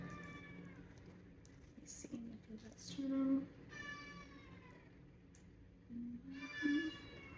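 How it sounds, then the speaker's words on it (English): A cat meows a few times with rising harmonic cries, spaced apart, over quiet background talk and kitchen sounds of a whole chicken being cut up. "You hear the cat?"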